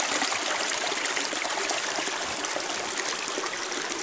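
A mountain river rushes steadily in the Carpathians along the Bystrytsia valley, a loud, close, unbroken wash of flowing water over rocks with no voices.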